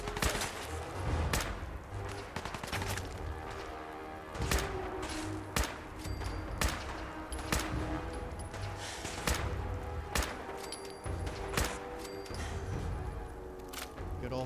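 Game gunfire in Fallout 4: sharp, loud single shots ringing out at irregular intervals, about ten cracks with echoing tails over a steady background, ending in a headshot.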